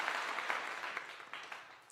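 Faint applause at a Colorado football post-game session following a 2024 victory against Arizona, scattered claps that thin out and taper off over two seconds, with no talk.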